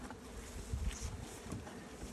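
Honeybees swarm around a two-box beehive in an apiary, a dense, close buzzing hum that holds steady with small swells throughout, with no talk over it.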